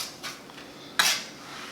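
Utensils clink and scrape in a bowl while chives are mixed into a Cobb salad, a soft brush early on and then one sharp, bright metallic clack near the end, close and otherwise quiet.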